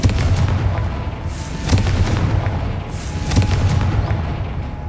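Confringo fire-blast spell explosions in Hogwarts Legacy, a series of loud booming bursts with rumbling low thuds repeating every second or so, close and dense.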